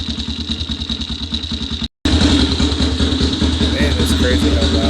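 A Yamaha Raptor 660 ATV engine runs loudly with a steady, rapid pulsing idle and a slight ticking from the cam area at the top. There is a brief dropout midway, and then the engine continues close up.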